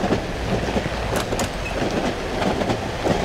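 A train rolls along in the horror game Cry of Fear, a loud steady rumble with clickety-clack wheel beats and brief metallic squeals, with no voices.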